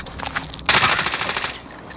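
Rapid automatic gunfire in Call of Duty: Modern Warfare, a loud close burst of fast shots lasting about a second, with quieter shots before and after.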